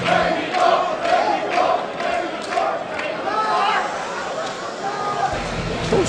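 Packed crowd at the King of Fighters XIII grand finals on the EVO main stage roars and chants continuously, with commentators talking over the steady crowd noise.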